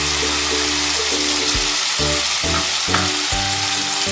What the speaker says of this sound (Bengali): ফোড়নে সুগন্ধ হলে আমি পেস্টটা আলতো হাতে দিয়ে দেব, সাবধানে যাতে না ছিটকে।